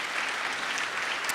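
Brief burst of audience applause at a live charity comedy event, steady clapping from a crowd throughout, fairly faint and without speech.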